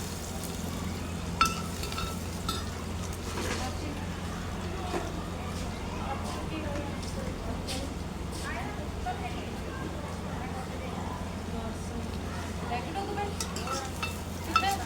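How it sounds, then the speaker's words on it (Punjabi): A low, steady sizzle of a spice tempering frying in a pan for potato and mukand vadi dal, with occasional clinks of a utensil against the metal and a constant background hum. "ਲਓ ਜੀ ਤੜਕਾ ਆਪਣਾ ਭੁੱਜ ਗਿਆ ਵਾ"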